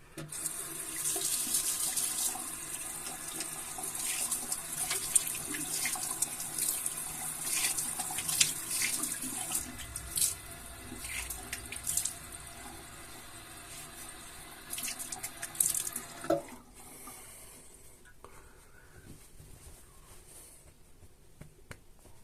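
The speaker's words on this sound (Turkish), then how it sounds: "Şimdi yüzümü yıkayacağım." Tap water running into a sink while a face is washed after shaving, steady close splashing and gushing with small bursts for about sixteen seconds before the flow stops, then quiet drips and handling noises.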